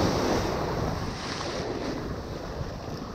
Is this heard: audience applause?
no